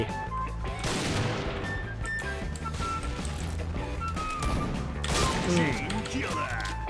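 Gunfire in the Point Blank online shooter game, with rapid bursts and crashing impacts, loud and continuous, while a player talks over the action.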